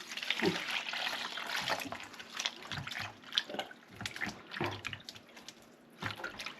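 Water is poured from a copper vessel over homemade butter being washed, an uneven splashing and trickling with intermittent glugs and knocks, close and moderately loud.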